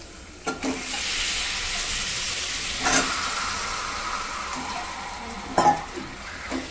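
Chicken pieces frying in a pan with turmeric and salt give a steady loud sizzle, broken by a few clanks and scrapes of stirring.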